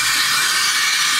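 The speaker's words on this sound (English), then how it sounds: "Then turn the steam wand on, and once the air starts going, lower the jug until you hear that sound." An espresso machine steam wand steams milk in a jug with a loud, steady, close hiss and no other sounds.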